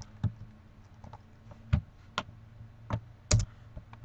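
Typing on a computer keyboard: sparse, irregular key clicks, close and fairly quiet, with short pauses between strokes and no voices.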